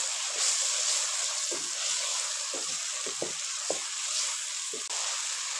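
Steady sizzling of peas frying in a pan, with soft scraping and clinks of a utensil stirring now and then.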